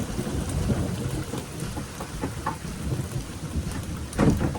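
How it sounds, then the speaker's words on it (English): Steady rain patters on a surface with low rumbling thunder rolling underneath, a dense continuous hiss punctuated by occasional drips and a louder crackle near the end, no voices present. "It's raining! And booming out."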